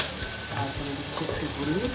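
Onions sizzle in a hot pan, a steady dense hiss of frying with a few soft stirring scrapes, close and continuous throughout.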